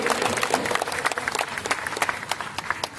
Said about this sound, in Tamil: மீண்டும் நல்ல ஒரு பெரிய கைத்தட்டல் கொடுத்து இப்பொழுது